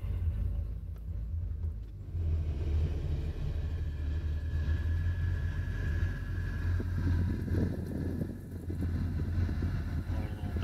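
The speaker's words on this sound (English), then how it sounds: "Car sounds great." A parked car's engine idles steadily after the car has been sitting for a while, a constant low rumble close by with faint wind noise and no talk.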